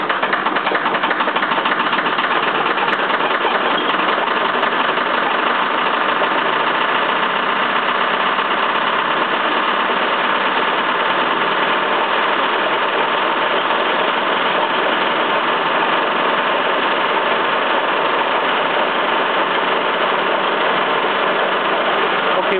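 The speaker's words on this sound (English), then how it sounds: "So what I'm going to do right now is start the motor." A Bedini (Watson) machine motor, driving an alternator, runs with a constant, even electrical hum and whir, close and unchanging for the whole stretch with no voices.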